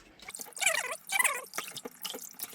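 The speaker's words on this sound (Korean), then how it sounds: "이거를 한번 헹궈줄게요. 헹궈가지고 데칠 겁니다." Soaked, cut japchae glass noodles rinsed by hand in water, giving close, irregular splashing and dripping in short bursts, moderately loud with small gaps between sloshes.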